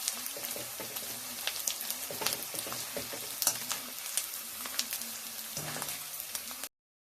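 Edible gum (dink) frying in oil in a kadhai, a steady dense crackle and sizzle of puffing resin pieces running throughout at moderate level, with no talk.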